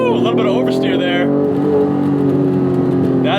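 A 1992 Acura NSX drives hard on a canyon road, its engine revving loud and close with a rising then sustained tone, and someone talks over the engine note.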